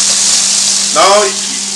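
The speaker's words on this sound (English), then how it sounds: "So the onion goes in there. And give it a stir." Onion drops into a hot pan and sizzles, a steady bright frying hiss with a brief louder burst of bubbling as it is stirred, no voices.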